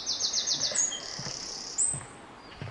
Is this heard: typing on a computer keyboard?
no